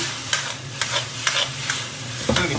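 Mushrooms and green peppers stir-fry in a hot wok, a steady sizzle broken by regular scraping strokes of the spatula, close and fairly loud with no voices.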